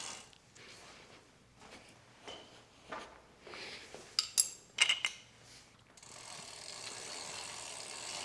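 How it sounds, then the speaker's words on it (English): Faint metallic clicks and scrapes as a 15mm wrench tightens a pedal on an electric bike, a handful of short sharp ticks followed by a steady hiss. "grab your 15mm wrench, put it on there, and it should tighten about a quarter turn"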